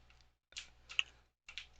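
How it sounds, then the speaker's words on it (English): Clacking keystrokes from a Razer mechanical keyboard with orange switches come in two short bursts separated by brief pauses, close and moderately loud, with no voices. "All I hear is the clacking and ticking of people's controllers over their microphones and my keyboard."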